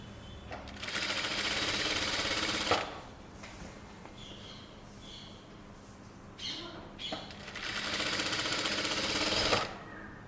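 A sewing machine stitches the neckline of a boat neck kurta, two loud sustained runs of fast rattling motor whir separated by a quieter pause with small handling sounds.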